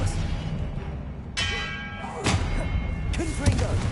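Spell effects from a Hogwarts Legacy wizard duel, with three sharp magical impacts ringing out with a bell-like whoosh over a steady background rumble.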